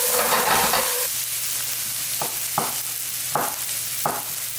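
Minced garlic and shallots sizzle on medium heat in a large 10-liter pot, a constant soft frying hiss broken by several distinct stirring scrapes spaced about a second apart.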